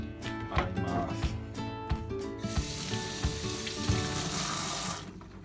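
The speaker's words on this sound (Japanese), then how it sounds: "ここまでいったら一旦ちょっとまな板と皮で汚くなったのを洗います" A cutting board dirtied by pineapple skin is rinsed in a sink: a few clattering knocks, then tap water gushes steadily for several seconds before shutting off.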